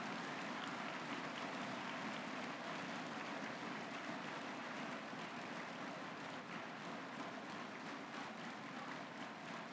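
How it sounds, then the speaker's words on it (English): At the 2023 MATHCOUNTS National Competition, a large audience applauds top students in a dense, continuous wash of clapping, distant and steady throughout. "Please give a loud round of applause for our top four students"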